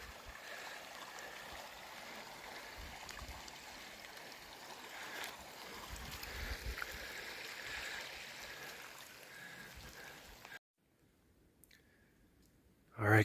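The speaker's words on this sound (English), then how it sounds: "Back at this little creek." Gentle, steady trickle of a small creek flowing outdoors in Pennsylvania woods, a continuous low wash heard alone for about ten seconds before dropping away to near silence.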